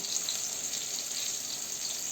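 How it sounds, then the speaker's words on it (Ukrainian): Steady, soft sizzling of schnitzel frying in a pan over low heat, a continuous hissy crackle with no talking. "Отако на невеликому вогні будемо смажити."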